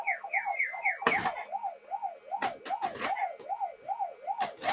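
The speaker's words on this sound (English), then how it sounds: "That siren noise, and I know it's a Pac-Man sound, but still, it's still a siren" A Pac-Man pinball machine's wailing electronic siren rises and falls in a steady repeating loop, with several sharp bursts of clatter breaking in over it.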